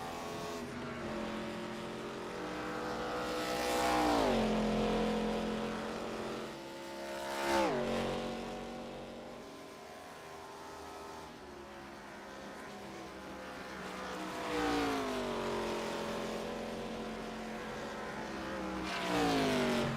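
Race cars lapping Pocono in a racing video game, engines rising and falling as cars pass in repeated swells, several loud close passes over a constant engine drone.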